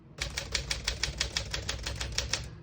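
Keys clack on a 1956 Smith-Corona Silent-Super portable typewriter, a quick, fairly regular string of about a dozen crisp strikes over a low mechanical hum, close and fairly quiet.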